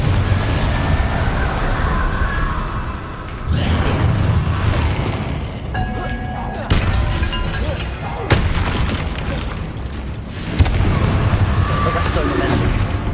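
Confringo fire spells exploding in the video game Hogwarts Legacy, a series of heavy booms and blasts at intervals of a few seconds, loud and close, amid dense game noise with some voices.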